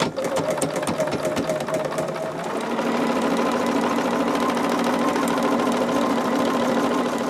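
A sewing machine stitches fabric pieces, running in a continuous fast mechanical whir that shifts to a steadier, slightly lower hum partway through, close and fairly loud with no pauses.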